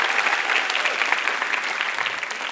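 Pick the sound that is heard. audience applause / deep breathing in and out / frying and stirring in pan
audience applause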